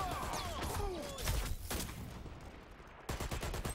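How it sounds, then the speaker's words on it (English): Machine gun fire in a competitive video game match, rapid bursts of shots with crashes and impacts, loud and dense at first, briefly thinning, then a fresh volley of sharp reports at the end. "Right now they're getting shot by the MG."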